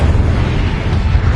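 Incendio fire spell cast in Hogwarts Legacy, a loud, brief roaring whoosh of flame with a deep rumbling body, sustained for the whole moment.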